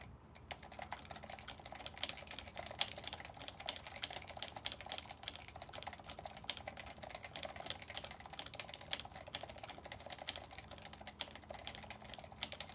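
Fast, continuous typing on a Forever65 mechanical keyboard with rattly stock stabilizers, a dense stream of close clacky keystrokes at a low, even level with no speech over it.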